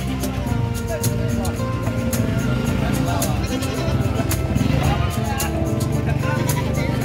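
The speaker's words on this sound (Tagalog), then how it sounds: "So, daming kambing." Goats bleat repeatedly amid a busy, noisy crowd at a livestock market in Malasiqui, Philippines, with people talking throughout and a steady background din.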